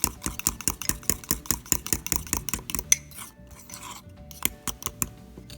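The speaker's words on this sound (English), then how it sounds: "Egg resists being mixed with the sugar," A utensil scrapes and clinks rhythmically against a cup while egg and sugar are whisked together for a mug cake, making steady fast strokes that slow and loosen toward the end.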